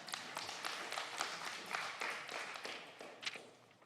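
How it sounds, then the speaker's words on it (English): A small group at a county council meeting gives a scattered round of applause, faint and uneven claps with light taps, continuing for a few seconds. "Let's give a round of applause for that."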